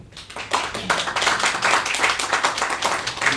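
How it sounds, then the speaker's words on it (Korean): Church congregation applauding after a Father's Day carnation presentation, a dense, steady roar of many hands clapping that swells quickly and holds loud throughout, with no talk over it. "우리 감사의 마음 박수로"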